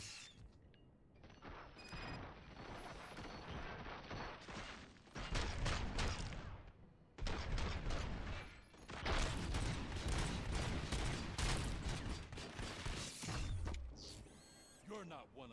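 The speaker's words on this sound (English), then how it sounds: "Fire at will." Bursts of gunfire and mechanical clatter fill a station shootout in RoboCop: Rogue City, dense volleys broken by brief pauses, with metallic creaks and thuds between the shots.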